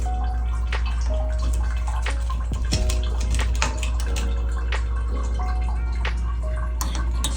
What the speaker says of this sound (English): All the water from the shower head piping coming out.